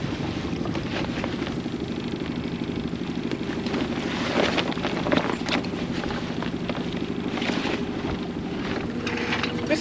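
A sailboat under way makes a constant rushing wash of wind and water, with a low, steady drone beneath. Gusts swell it slightly in the middle, and no one speaks.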